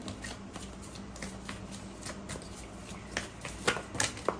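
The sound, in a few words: shuffling tarot cards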